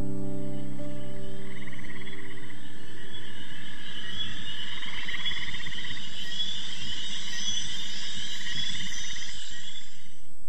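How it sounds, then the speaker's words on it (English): Dominican tree frogs calling at night, a loud overlapping chorus of rapid trilling croaks, dense and continuous close by, with no voices. "Still chasing the Dominican tree frogs."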